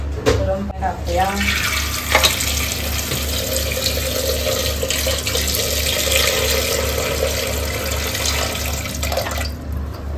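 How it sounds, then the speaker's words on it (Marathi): A steady stream of hot water runs close by, a continuous splashing rush over a low hum, with a faint voice in the background. "गरम पाणी टाकूया."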